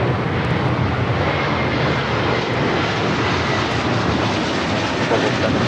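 A jet airliner takes off from runway 25 right at LAX, a loud, broad, continuous engine roar and rumble held steady throughout.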